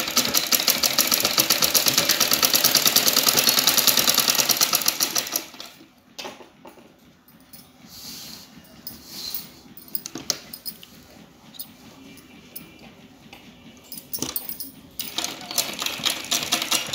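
A sewing machine top stitching a dress runs in a fast, steady whirring chatter for about five seconds, then falls quiet, with faint handling noises before a brief restart near the end.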